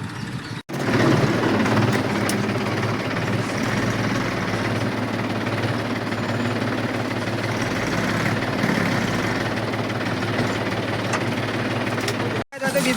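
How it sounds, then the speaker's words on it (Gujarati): A tractor stuck in the mud, fully loaded with stones and sand, keeps its engine running in a loud, steady, close low drone that barely changes, with faint voices in the background. "વાકણ આવીને ટ્રેક્ટર તો ફસાઈ ગયું છે"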